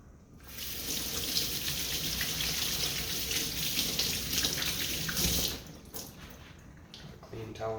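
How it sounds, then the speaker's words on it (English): Hands being washed under a running kitchen tap, a steady broadband splash of water for about five seconds that then cuts off, leaving quieter handling sounds. "Go ahead and wash my hands ahead of time."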